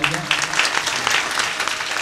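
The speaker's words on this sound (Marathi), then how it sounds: "महाराजांकरता एकदा टाळी होऊन जाऊ द्या" A kirtan audience applauding the mridang player, a dense burst of hand clapping with voices mixed in throughout.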